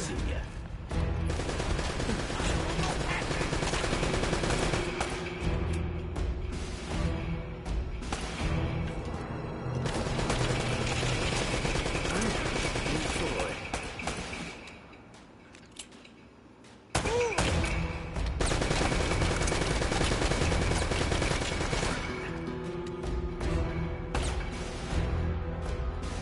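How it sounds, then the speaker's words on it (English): Sustained gunfire in the Uncharted video game, loud dense bursts of automatic shots and thuds filling most of the stretch, briefly thinning and dropping in the middle before resuming at full intensity. "There's a lot of shots"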